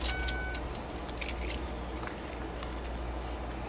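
Car keys jangle and clink as they are passed over during a roadside police traffic stop, a few quick metallic rattles near the start over a steady low idling-engine rumble.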